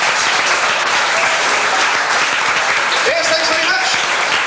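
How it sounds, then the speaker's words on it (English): Audience applause at a restaurant show after a card trick, sustained loud clapping throughout while someone briefly speaks over it near the end. "Ah, what a lovely round of applause that was."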